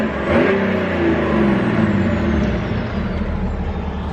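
A tuned and deleted diesel BMW 335d idling and revving in a parking lot, a steady loud engine drone with rising and falling tones, no talking.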